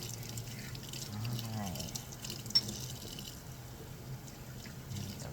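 Quiet running tap water trickling into a sink during a cat's bath, soft and continuous with a brief sharp clink midway, while a person speaks briefly over it.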